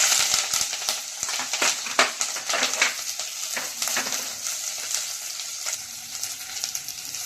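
Green chillies fry in hot oil with cumin seeds, a steady close sizzle and crackle running throughout with occasional sharp pops and a few stirring scrapes, no voices.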